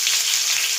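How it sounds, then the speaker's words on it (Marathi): Sliced onion hits hot oil tempered with mustard seeds and cumin, giving a loud, steady, close sizzle with no talk. "ह्याच्यात मोहरी टाकली आहेत आणि जिरे टाकलेले आहेत आणि हा कांदा टाकत आहे"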